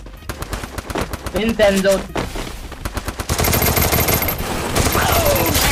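Rapid gunfire in a Free Fire Clash Squad match, with bursts of automatic shots and single cracks in quick succession, loud and close, giving way to sustained heavy firing, with a player's voice briefly heard over it.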